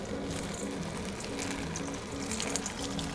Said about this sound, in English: Pour hot water over it to remove excess oil.